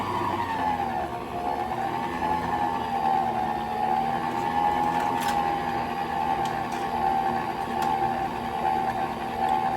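An electric mixer beating Snickers poke cake batter gives a steady, continuous motor whine with a constant pitch, running evenly for the whole stretch without pauses.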